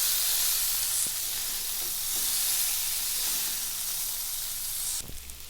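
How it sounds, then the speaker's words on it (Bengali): Soybean chunks and potatoes are frying in a pan with a loud, continuous sizzling hiss that holds steady, then a clatter near the end as the food is stirred, close, with no talk. "আমি সয়াবিন আর আলুটাকে দিয়ে দেব। কিছুক্ষণ কষিয়ে নেব।"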